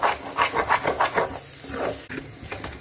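Ingredients tipped into a pan of oil that is not yet hot and stirred to sauté, giving a steady rhythmic scraping and rubbing close by, with a light sizzle that thins toward the end.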